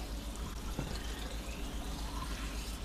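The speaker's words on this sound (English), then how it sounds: "Now we're gonna run some water and see how badly I did." Water running from a faucet into an RV travel trailer's kitchen sink and drain, a steady faint pouring and trickling wash that continues evenly throughout.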